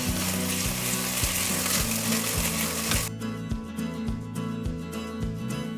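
Chopped garlic and ginger frying in a pan for dal makhani, a steady broad hiss of oil that runs loud and continuous, with a regular low thumping beat underneath throughout.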